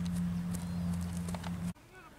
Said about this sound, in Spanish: Ahí viene el moro paseando.